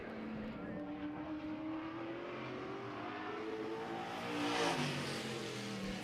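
A drag race car leaves the line at a season-opening drag meet, its engine note climbing steadily as it accelerates and swelling louder toward the end, heard from a distance.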